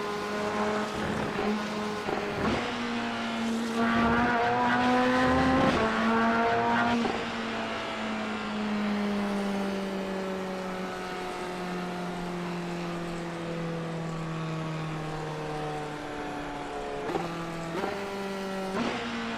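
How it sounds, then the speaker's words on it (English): A Chevy race car in the iRacing video game idles with a lumpy cam, then revs up through rising and falling engine sweeps, loud and close, with short bursts of throttle near the end. "It sounds like it's got a lumpy cam idling, and then you rev it up and it sounds more like a Ferrari."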